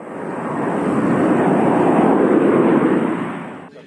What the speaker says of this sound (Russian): Заключительная часть программы – полет американского самолета Пи-8 «Посейдон»